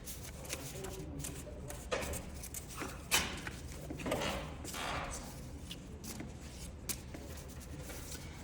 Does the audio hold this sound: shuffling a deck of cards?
yes